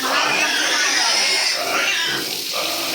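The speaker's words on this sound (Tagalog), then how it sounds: "Itong baboy na to, ilang buwan na?" A piglet about one month old grunts and snorts on a backyard farm in Calauag, Quezon, giving a continuous close, rough, noisy snuffling.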